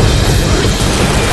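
A loud explosion in the zombie shooter Left 4 Dead, a dense, saturated roaring blast filling the whole brief moment without letup.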